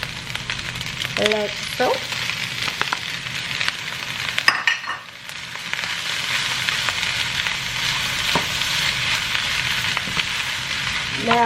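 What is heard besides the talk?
shrimp sizzling in a pan for fried rice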